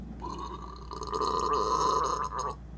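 A long, drawn-out burp during an eating session, loud and close, rumbling steadily for about two seconds before trailing off.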